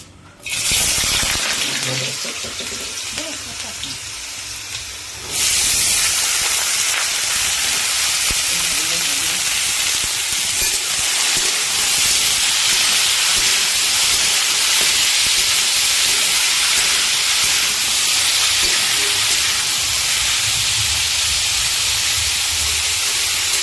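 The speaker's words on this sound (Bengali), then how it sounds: "এখানে তেলটা কিন্তু গরম হয়ে গেছে। আর এই সময়তে আমরা এতে দিয়ে দেবো কেটে রাখা আলু।" Cut potatoes dropped into hot oil for a homemade vegetable chowmein, with a loud, dense hiss that starts suddenly and roars on steadily, close up.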